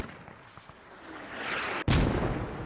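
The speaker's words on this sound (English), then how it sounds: "The mortar is still being fired here." Mortar firing in the video game Squad: a low rumbling background swells, then a single sudden, loud launch blast with a long, heavy tail.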